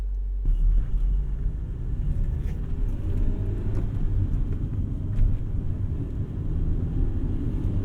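A 2000 Honda Civic Si being driven on the road, its engine and tyres making a steady low rumble heard from inside the cabin, continuous and moderately loud, with no talking.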